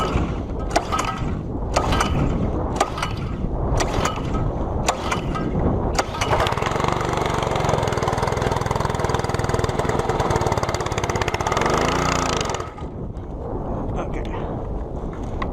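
A Simpson MSH3125 MegaShot 3200 PSI gas pressure washer with its choke pulled out is started, and a steady, loud small-engine roar then runs continuously, with a person talking over it early on.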